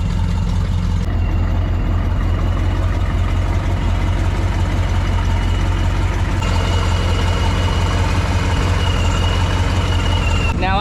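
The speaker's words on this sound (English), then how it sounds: "It's idling." The engine of a rare military prototype truck, just restarted after years unused, idles steadily with a heavy low rumble that runs unbroken and close throughout, while someone speaks over it.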